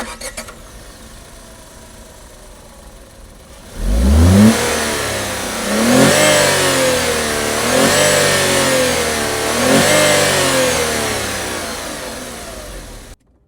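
A Tata Tiago 1.2 petrol engine with manual gearbox cranks and fires up, then revs in several rising and falling surges. It is loud and close, with no talk over it.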